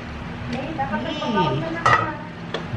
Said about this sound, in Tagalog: Lagay na ako ng sibuyas.